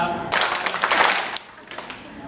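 A group at a storytelling workshop icebreaker claps along to a sung Filipino song, a burst of brisk handclaps under singing voices that thins out toward the end.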